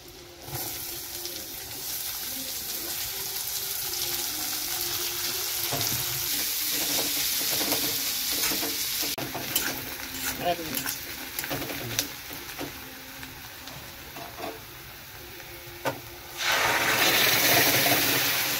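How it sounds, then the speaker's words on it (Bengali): Loud, continuous sizzling of garlic and cumin frying until reddish-brown in hot oil, with scraping stirs and a brief clatter, surging louder near the end. "রসুনটা লাল লাল করে ভাজা হয়ে গেছে।"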